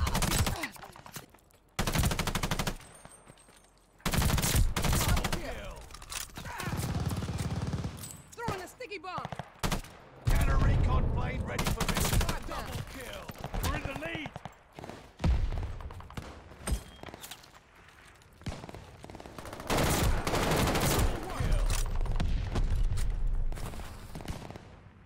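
Gunfire in the World War II shooter game Call of Duty: Vanguard, with loud rifle and machine-gun bursts and dense volleys repeating throughout, some heavy thuds, and a player's voice talking between shots.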